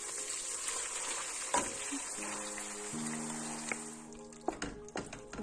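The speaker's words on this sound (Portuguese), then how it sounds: "vamos envolver este azeite no pão, os coentros e vamos deixar secar o pão lentamente" Bread soaked with olive oil and coriander cooking slowly in a pan for a shrimp açorda, a faint steady sizzle with a few soft stirring knocks near the end, quiet and close.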